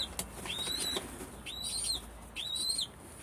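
Three quick bursts of wing flapping from pigeons close by, each paired with a thin whistling sound, against a quiet background.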